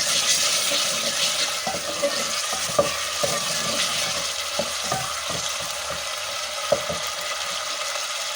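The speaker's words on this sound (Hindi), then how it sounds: "अब हम इसमें ये लहसुन अदरक का पेस्ट है ये डाल देंगे" Garlic-ginger paste hits a hot pan and fries with a steady, bright sizzle, while light clinks and scrapes of stirring pop through now and then while chickpeas are prepared Pakistani style.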